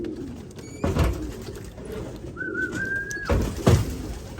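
Racing pigeons coo close by in a few soft, low bursts, with a brief whistle-like call between them.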